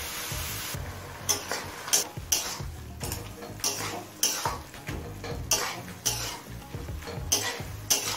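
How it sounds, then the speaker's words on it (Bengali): A spoon stirs a beetroot and carrot vegetable mixture in a pan after water is added, with rhythmic scraping and clinking strokes repeating roughly every half second over a soft sizzle, close and steady. "জল দিয়ে আরো একবার নেড়ে নিলাম।"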